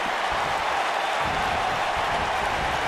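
A crowd roars and cheers without a break in the WWE 2K19 wrestling video game, a dense, loud wash of arena noise lasting the whole moment.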